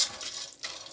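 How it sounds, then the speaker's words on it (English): Water poured into a pot for pasta, a short, soft splash and gurgle that fades quickly, close and fairly quiet, with no talking. "Water will go inside right now."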